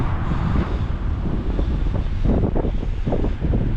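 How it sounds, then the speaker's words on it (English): Constant wind buffeting the microphone along busy Kingston Pike in Knoxville, with passing traffic rumbling underneath, loud and continuous throughout. "it's on the busy Kingston Pike, so there's lots of noise and wind"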